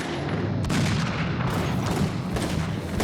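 A submachine gun firing fast in a rapid burst, loud and dense, a continuous rattle of shots with sharp peaks around the middle and end.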